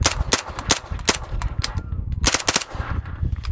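Suppressed 9mm submachine gun shots through an Obsidian 9 suppressor in its short K configuration ring out as a quick string of sharp, loud reports in uneven bursts, with brief gaps between groups.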